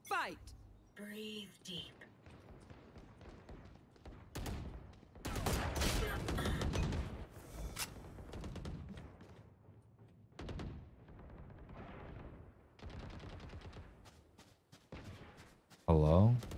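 Gunshots in a VR video game: bursts of rapid fire clustered around the middle, mixed with a player talking and game sounds, ending in a louder blast.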